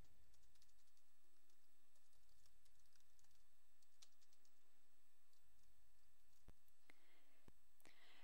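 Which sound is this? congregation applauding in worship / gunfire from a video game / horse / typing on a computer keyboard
typing on a computer keyboard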